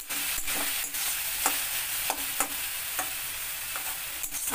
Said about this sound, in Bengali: এবার এটাকে একটু নেড়ে চেড়ে দেখছি